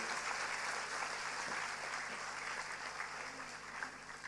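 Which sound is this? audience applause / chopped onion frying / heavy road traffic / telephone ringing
audience applause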